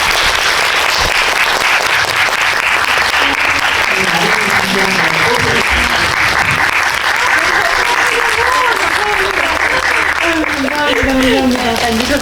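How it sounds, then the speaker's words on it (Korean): Loud, sustained applause fills the room at a Marie Claire Film Festival screening talk for The Florida Project, dense clapping throughout with voices heard underneath. "큰 박수 부탁드립니다."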